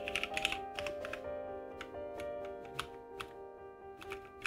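Typing on a computer keyboard, a quick irregular patter of close key clicks with a burst at the start and scattered taps after, no talk.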